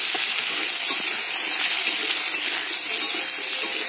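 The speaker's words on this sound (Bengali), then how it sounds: "এবার আমি আলুটাকে দিয়ে 2 মিনিট মতো সব মশলার সঙ্গে নাড়াচাড়া করে নেব।" Potatoes stirred and fried with spices in a pan for a vegetarian pumpkin dish, a loud continuous close sizzle with faint scraping from the stirring, no voices.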